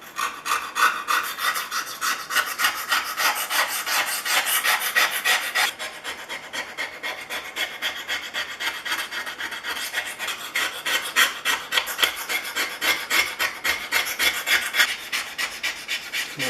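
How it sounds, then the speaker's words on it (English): Rust is scraped off a Stanley No. 35 plane in steady, rhythmic rasping strokes, a close, harsh back-and-forth scratching that continues unbroken for the whole stretch with no voices. "I think that's it for the scraping."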